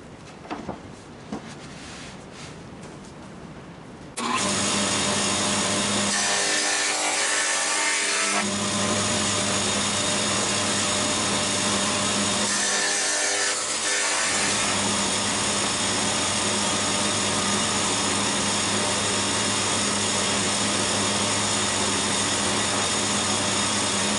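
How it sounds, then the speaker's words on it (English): A power tool cuts dados into wooden side pieces for a shelving and storage unit. After a quiet start, a loud, steady, whining roar runs to the end, dipping briefly twice as the cut pauses. "Now we have to make the dados for the side pieces."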